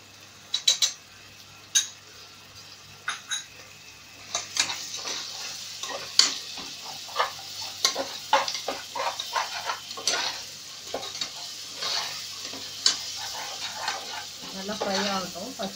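Green chillies and ginger garlic paste frying in a pan for a meal maker biryani, with a soft sizzle under repeated scrapes and clinks of a spoon stirring, close by, with a voice talking at times.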